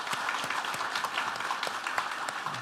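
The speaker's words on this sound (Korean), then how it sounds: "우리 박수로 환영하겠습니다." Church congregation applauding to welcome four visiting pastors from England, a steady patter of hand claps filling the room at moderate level without a break.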